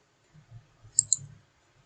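Two crisp, quiet mouse clicks in quick succession on a like button in a Padlet board, close together with faint low rumble around them and no talking.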